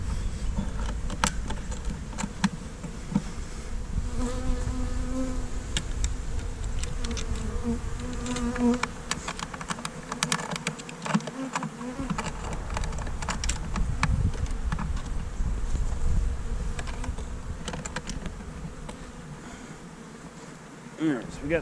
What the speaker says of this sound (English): Now I got bees flying all over me,